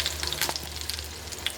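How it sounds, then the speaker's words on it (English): Breaded chicken fries in two pans, giving a steady close sizzle dotted with crisp little pops and crackles. "you want, when it's cooking, to just barely hear it sizzling"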